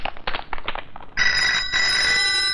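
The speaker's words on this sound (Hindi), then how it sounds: "निकलते वक्त फोन की घंटी" A telephone bell starts ringing loudly and continuously after a stretch of muffled background sound, in a film scene.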